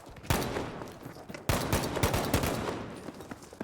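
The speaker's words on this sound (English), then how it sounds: "Using a semi-auto rifle here." Semi-automatic rifle fire in a 20v20 Breakthrough round of a World War II shooter on the Rotterdam map, with sharp shots at steady spacing, loud and close, over a continuous din of distant battlefield gunfire.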